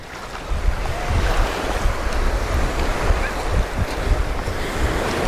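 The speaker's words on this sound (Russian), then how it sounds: "мы пришли на центральный пляж, потому что много людей" Sea waves washing ashore at a crowded central beach in Anapa, a loud continuous surf roar mixed with heavy wind buffeting the microphone.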